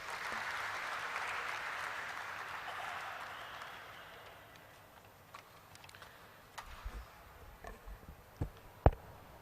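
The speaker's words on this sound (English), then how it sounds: "Please have a round of applause," Audience applause at a stock exchange listing ceremony for Popular Vehicles and Services Limited, a dense sustained clapping that swells in the first seconds, then thins into scattered individual claps and a few sharp late ones.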